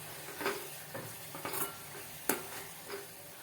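Chutney with turmeric and salt being stirred in a pan, with a steady soft sizzle under a few spoon scrapes and light clinks against the metal, close by and with no talking.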